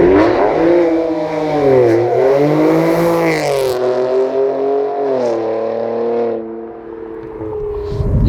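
A Nissan Z fitted with a cold air intake and other bolt-on parts revs hard past in a close flyby, its engine note climbing and shifting through gears before fading away.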